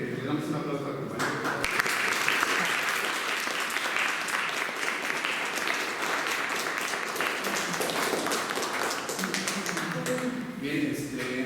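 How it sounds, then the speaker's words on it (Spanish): An audience at a talk on geometry bursts into sustained applause for a speaker, with loud, dense clapping running for about ten seconds before it fades and voices return near the end. "Le damos un aplauso al compañero."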